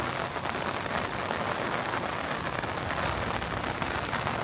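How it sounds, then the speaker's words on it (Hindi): Heavy rain pours steadily over the ancient marble ruins of the Roman Forum in Rome, a dense, even hiss of drops hitting stone and puddles with no voices, continuous and close throughout. "दबा के बारिश हो रही है नाज़रीन"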